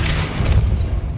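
A Depulso spell is cast in the Hogwarts Legacy video game, giving one short, loud, boomy burst that fades over about a second.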